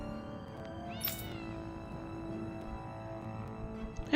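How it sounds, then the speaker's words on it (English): Another cat in the video game Tales of Arise gives a brief meow, fairly faint, over a steady hum of game ambience. "Hey, there's another cat."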